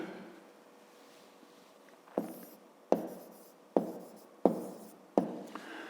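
A pen writes on paper in a maths exercise book, five distinct scratchy strokes at roughly even intervals, close and crisp against a quiet room.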